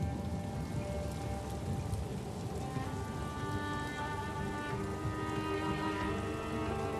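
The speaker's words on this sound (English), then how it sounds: "you can see rain in the desert" Rain falls on desert sand dunes in Algeria, making a dense, steady patter that stays even and close throughout with no voices.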